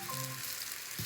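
Tortillas fry in olive oil in a pan with a soft, continuous sizzle, close and fairly quiet, with a faint tonal hum early on and a brief stirring bump near the end.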